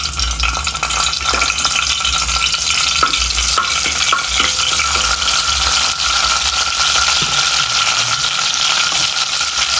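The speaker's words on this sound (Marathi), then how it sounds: "कढीपत्ता टाकूया आधी।" Curry leaves crackle and sizzle loudly in hot oil in a pan, a dense steady frying hiss close by with occasional stirring clinks, heading into a tisrya (clam) curry.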